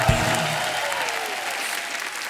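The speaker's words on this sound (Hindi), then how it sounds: "जोरदार तालियां हो जाएं।" A studio audience at a comedy talk show applauds loudly and steadily. A brief musical sting opens the stretch, then the clapping carries on alone.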